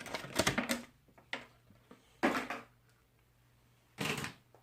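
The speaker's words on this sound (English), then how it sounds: "We got trusty wire cutters over here. Cut this zip tie." Trusty wire cutters snipping through a plastic zip tie during an unboxing, a few sharp close clicks and snaps in separate bursts, with quiet pauses between and no talk.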